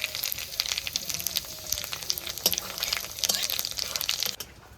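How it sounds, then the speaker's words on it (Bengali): Cumin, bay leaf and dried chili sizzle in hot oil in a wok, a continuous close crackle with scattered sharp pops and spits throughout. "আমি এবার কড়াইতে তেল দিয়ে দেবো এবার শাক রান্না করবো তার জন্য যেমন জিরে তেজপাতা আর শুকনো লঙ্কা"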